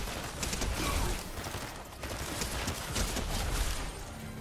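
A waterbending mythic weapon fired in Fortnite, aimed like a normal gun, gives a dense, continuous barrage of rushing, crackling blasts over about four seconds with small surges and a brief dip midway.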